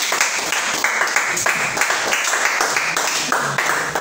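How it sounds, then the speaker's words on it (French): A church congregation applauding, a dense sustained round of clapping that fills the space steadily from start to end. "On acclame le Seigneur Jésus-Christ."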